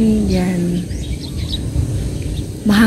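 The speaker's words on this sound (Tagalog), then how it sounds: "Tapos may huni pa ng mga ibon" Faint birdsong chirps outdoors on a windy day in a green, relaxing rural spot, scattered short calls over a steady breezy background hiss.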